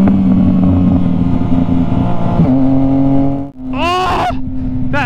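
Motorcycle engine droning loudly up close, then dropping off and revving up again, with a quick burst of rapid rising exhaust pops and rev blips near the end.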